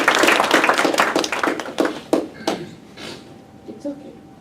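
An audience at a dairy conference at the Novotel Dubai World Trade Centre claps in a quick burst of applause that thins out and fades after a few seconds, followed by a voice speaking.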